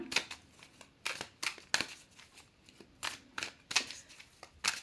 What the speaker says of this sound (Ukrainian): Мішаємо карти.